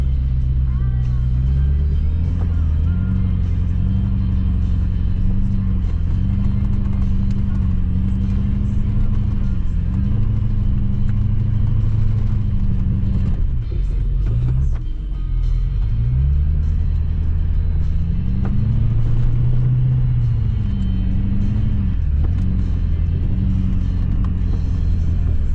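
Vehicle on new tires plowing snow up a hill, a heavy steady engine rumble with repeated rising and falling revs, heard from inside.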